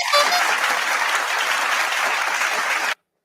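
Applause greets a winner announcement during a live online show, a dense, steady clapping sound lasting about three seconds before cutting off abruptly.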